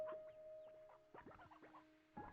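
A candied hen in Slime Rancher 2 clucks softly in a few short, quick calls, faint against a steady tonal game background with no talk.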